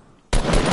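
Sudden loud video game gunfire starts after a short quiet lead-in, a dense rapid burst of shots sustained to the end, close and harsh.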